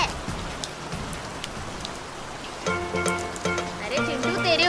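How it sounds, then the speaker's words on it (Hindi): Cartoon rain pours as a dense hiss of falling drops, first alone and then beneath a cartoon character's chattering voice, with a clear tonal sound entering partway through. "अरे चिंटू, तेरे ऊपर बारिश हो रही है"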